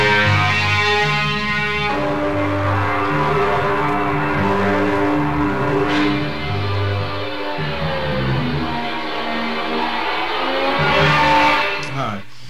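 A band soundchecking at Keystone Berkeley: a loud, continuous band sound with sustained distorted guitar tones and a steady low-end pulse, filling the whole stretch without pauses.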